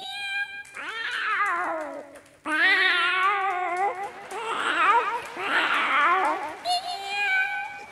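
A voice imitates a cat, giving a series of drawn-out, wavering meows and yowls, loud and close, one after another with short breaks.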